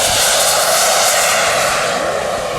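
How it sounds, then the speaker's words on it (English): A USAF tanker aircraft makes a flyby, its engines producing a loud, continuous roaring rush that stays steady and close throughout with no voices. "It makes a nice flyby here"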